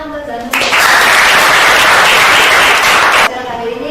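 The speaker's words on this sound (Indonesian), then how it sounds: "Tepuk tangan untuk Zanur." Applause for a student in a classroom: a burst of many hands clapping, loud and close, starting suddenly and lasting about three seconds before stopping abruptly, with faint voices around it.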